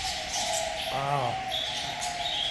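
Birds chirp in a walk-through zoo aviary, with a few short calls over a constant bed of background chatter and hum.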